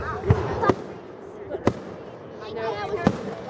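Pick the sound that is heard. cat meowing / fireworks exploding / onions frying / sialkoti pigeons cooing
fireworks exploding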